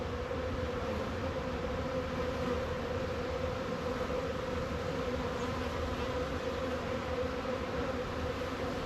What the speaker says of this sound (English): Bees doing what bees do, but listen to that hum, eh?